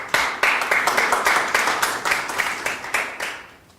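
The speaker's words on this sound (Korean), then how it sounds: "힘찬 박수 모시겠습니다." Applause from a forum audience at a railway workers' testimony event, a dense patter of many hands clapping steadily and fairly close for several seconds, fading slightly toward the end.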